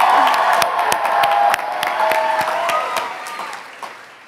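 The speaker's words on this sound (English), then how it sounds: "Can we please give another round of applause to our wonderful student leader" A graduation convocation audience claps and cheers in a large hall, a dense, steady wash of applause with scattered whoops that slowly fades toward the end.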